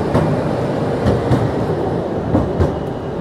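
A train rolls past at a railway station platform, its steady loud rumble broken by rhythmic clickety-clack beats of wheels over rail joints throughout.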